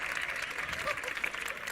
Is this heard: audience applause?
yes